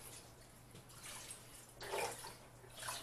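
Chicken broth pours into a crock pot in a soft, continuous liquid splash that swells in two short bursts near the end, faint and close with no talking.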